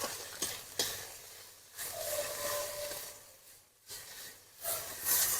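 Bottle gourd leaf paste fries in oil with salt and a pinch of sugar, producing a soft sizzling hiss broken by bursts of stirring and scraping, rising and dropping in short waves with brief near-silent gaps.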